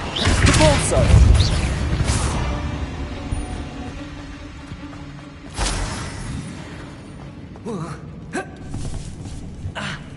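The Depulso force spell fires in the video game Hogwarts Legacy with loud whooshing blast effects at the start and again midway, then fainter magical bursts and clatter over ambient game sound.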